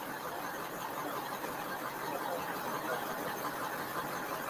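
A vehicle engine runs during a police traffic stop, making a steady, loud, unbroken drone with no voices heard.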